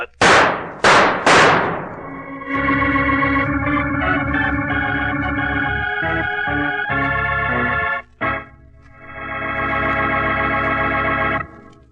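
Three sharp gunshots ring out in quick succession in an old Sherlock Holmes radio drama, followed by a sustained musical sting that swells and pauses.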